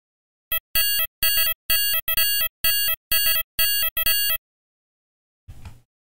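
Early FM hi-hat patch on a Thor synthesizer in Reason plays about a dozen bright, metallic, tonal hits in an irregular pattern, then stops; a short low thump follows after a pause.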